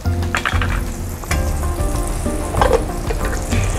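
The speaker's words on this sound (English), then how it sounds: "So first step is the butter. Let's add the butter." Butter melting in a pan for a cheese sauce, about a quarter block, sizzling and crackling steadily with a few soft clinks and stirring sounds, fairly loud and close with no talking.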